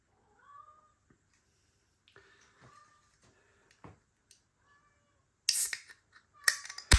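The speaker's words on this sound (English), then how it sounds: "The cat's talking." A house cat meows several times in short, faint calls spaced apart in a quiet room, followed by louder clattering and handling noises at the end.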